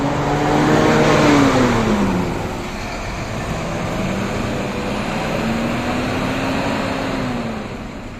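Intercity sleeper bus in special livery pulling away, a steady close engine drone rising in pitch as it gathers speed, with broad road and wind rumble.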